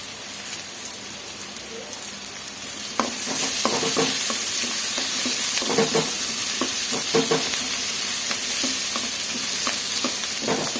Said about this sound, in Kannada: ಈ ಕಡೆ ಇದು ಫ್ರೈ ಆಗ್ತಾ